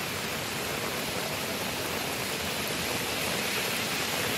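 Heavy monsoon rain pours over the waterlogged Vashi market in Navi Mumbai, a dense, even roar of falling water that holds steady and loud throughout, with no voices breaking through.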